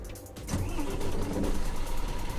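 A coach engine in Fernbus Simulator cranks and catches, then settles into a steady, rumbling mid-pitched idle that runs on close and continuous, with no talking over it.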